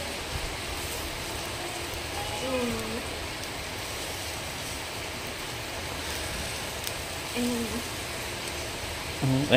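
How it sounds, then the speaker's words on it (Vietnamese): Steady, dense heavy rain hiss fills the background on a mountain outing while people talk intermittently in Vietnamese over it. "Ôi trời, đang mưa to luôn cả nhà."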